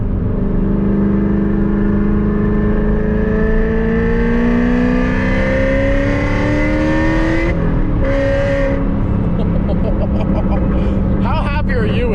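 A 1,000-horsepower Corvette ZR1 with a flame-shooting exhaust roars loud and close, revving hard through rising gear pulls with a brief drop between shifts, as voices talk over it.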